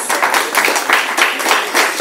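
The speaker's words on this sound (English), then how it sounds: "give yourselves a round of applause" A room of adults and children at a day care visitors' day applauding themselves, a dense, steady wash of many hands clapping at close range with no voices over it.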